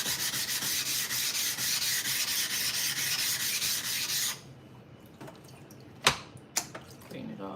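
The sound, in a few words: scraping a blade on a 1000 grit stone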